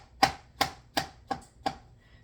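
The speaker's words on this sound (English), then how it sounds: "I've got to chop up my mushrooms, a finer chop." Knife finely chopping mushrooms on a board, five crisp, evenly spaced chops close up, each a sharp knock with a short decay.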